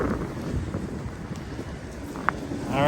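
Strong outdoor wind buffets the microphone near a banded iron formation rock in Ann Arbor, Michigan, giving a steady low rumbling roar throughout. A brief click sounds midway, and the gusting swells louder at the end.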